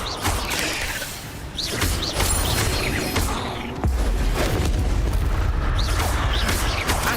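Fire spell cast in the Hogwarts Legacy video game, heard as loud, continuous booming whooshes and rumbling blasts with a heavy low end and no pause.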